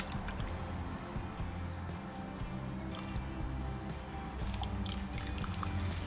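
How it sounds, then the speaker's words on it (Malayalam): Water is poured into a fish curry mixture of tamarind and tomato before it goes on the gas, giving a soft, continuous liquid trickle with light drips and squishy sounds, close and quiet, without talk. "ഇനി ഇതിലേക്ക് വെള്ളം ഒഴിക്കുക."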